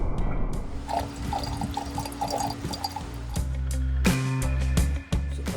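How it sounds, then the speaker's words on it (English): Nitric acid poured into about 100 millilitres of water in a container, giving a close splashing pour that builds and then ends in a few sharp clinks. "I got some nitric acid here. I'm going to add just a bit here."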